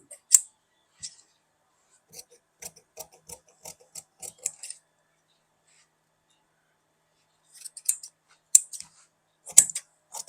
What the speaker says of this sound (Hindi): प्रिंसेस काट लेते हैं, फिर उसके बाद हम बेल्ट काटेंगे दोस्तों